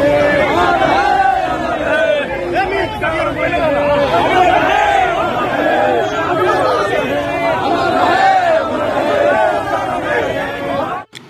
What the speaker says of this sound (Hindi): उनके अंतिम यात्रा में रघुवंश बाबू अमर रहे के नारे लगे।